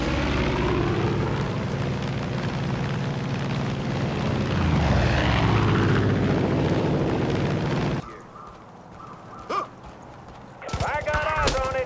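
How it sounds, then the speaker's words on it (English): A plane flies in the video game Far Cry 5 as a loud, steady engine roar with voices over it, running for about eight seconds before cutting to quieter talk and brief bursts of game noise. "What the hell does Eden's Gate want with a plane anyway?"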